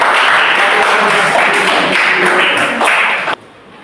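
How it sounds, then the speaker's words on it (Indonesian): A classroom of students bursts into dense, loud applause, close and sustained for about three seconds before cutting off abruptly into near quiet. "Kita tepuk tangan para teman-teman."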